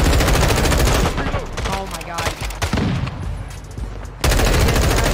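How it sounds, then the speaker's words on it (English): Rapid bursts of assault rifle fire from Call of Duty MW2 at a LAN event, loud and close, fired in several long automatic strings with a brief lull before a final sustained burst. "She hops out with a full 30-round mag and missed 15 of the shots."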